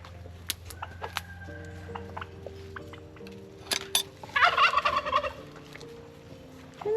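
Newly hatched Black Spanish and Bourbon Red turkey poults give thin, high peeping chirps in scattered bursts, growing into a busier cluster of calls near the middle, with light clinks in the background.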